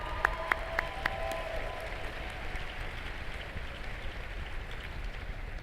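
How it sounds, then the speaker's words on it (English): A gala audience claps steadily throughout, a dense wash of applause with a few sharper claps standing out near the start. "She deserves a lot more applause than you."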